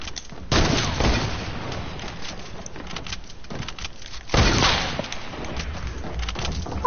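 Shotgun fire in a video game: two loud close blasts several seconds apart, each with a noisy tail over a rough, continuous background.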